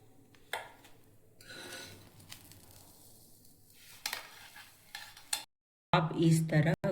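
Pav bread toasting in butter with pav masala on a pan gives a soft, low sizzle under light scraping and utensil clinks, then a brief pause before a louder burst of clattering.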